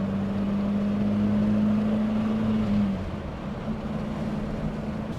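A Mk1 Ford Fiesta pulls away on the road, its engine droning loudly inside the cabin with a steady tone that holds, then drops as the car changes pace, with no talking.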